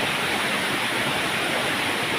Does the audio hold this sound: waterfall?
yes